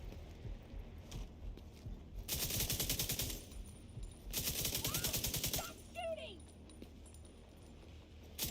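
Two loud bursts of rapid automatic gunfire ring out in The Division 2, each lasting about a second and a half and close by, followed by quieter game sounds.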